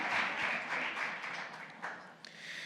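Fairly faint applause from an audience at a talk on digitization, a soft, even spatter of clapping hands that thins out toward the end.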